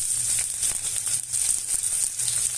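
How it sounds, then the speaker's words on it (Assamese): Onion fries in hot refined oil in a pan, loud close sizzling and spitting that stays steady with small surges, no talking. "এতিয়া টাইম হ'ল পিঁয়াজটো ভাজি লোৱা অকণমান"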